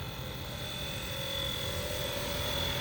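A FlyWing Bell 206 RC helicopter fitted with a three-bladed rotor head runs with a steady, continuous rotor chop and a thin motor whine, holding at moderate loudness throughout.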